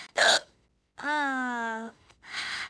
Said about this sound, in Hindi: चलिए तो अभी देखते हैं कब तक ये हिचकी होता है